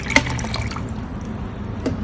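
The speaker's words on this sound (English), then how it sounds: "Always pour water first." Water is poured into a container as the first step in mixing a homemade hydrochloric acid paint stripper, giving a short gurgling splash with a few drips, close and with no one talking.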